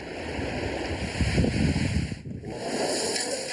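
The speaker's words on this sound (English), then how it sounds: "visitors can see breakthroughs in water crossing with vehicles able to move forward and turn in water" Vehicles churn through water on a test circuit in Zhengzhou, a steady broad rush of splashing and surf-like wash with a deep engine rumble beneath, swelling briefly mid-way before settling again.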